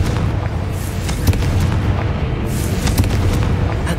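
A Confringo fire spell explodes in the Hogwarts Legacy video game, heard as loud, booming blasts with crackling bursts over a dense, rumbling background.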